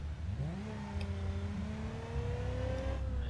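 A video game vehicle engine with a poor automatic gearbox revs up steadily, its pitch rising and holding as it accelerates, a continuous droning whine heard alone and fairly close.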